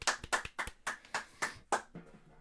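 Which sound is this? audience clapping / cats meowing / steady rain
audience clapping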